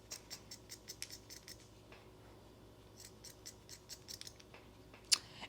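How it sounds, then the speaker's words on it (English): Scissors snipping away excess material on a handmade Christmas gnome built from dollar-store craft supplies, a quick run of crisp close cuts, then a pause, then scattered snips ending in one sharper click, with no talking. "you can go ahead and cut off some of this extra material here"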